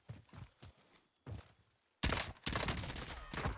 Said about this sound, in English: Now I'm getting shot from the other team up top.